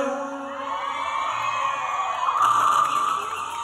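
A live audience in a church shouts and whoops during a concert recording, a sustained dense crowd roar that swells louder toward the end.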